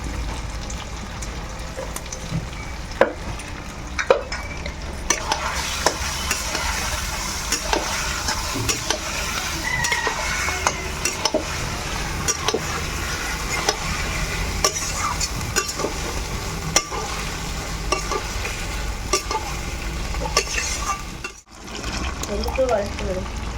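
Masala paste for a Bengali deshi chicken curry stirred and fried in a pan, a steady broadband sizzle with frequent spoon scrapes and clinks, close and continuous, briefly dropping out near the end.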